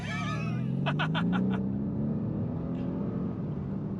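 A Mercedes C63s AMG's V8 engine rumbles steadily while driving, a low continuous drone with a brief rise in pitch under a faint voice and a short burst of clicking early on.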